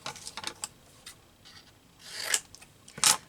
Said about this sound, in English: I need to cut this off a little bit.